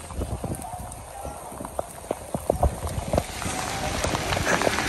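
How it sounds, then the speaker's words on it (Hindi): Heavy rain falls with a steady, dense patter and scattered sharper drops hitting nearby surfaces, the downpour growing fuller toward the end while a person talks over it. "फिर बिलाहर बारिश शुरू हो ही गई और काफ़ी तेज़ बारिश शुरू हो गई।"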